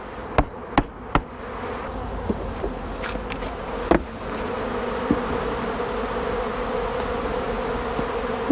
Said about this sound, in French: Je vais laisser les abeilles rentrer.